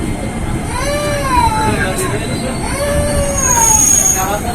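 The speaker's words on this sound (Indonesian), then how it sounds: "Ini ada kereta dari mana ini, dari Inka dan Jepang ya" A train passes through a platform at a busy Jakarta station, its wheels squealing in long rising and falling tones over a steady rumble, close and loud, with faint crowd noise behind.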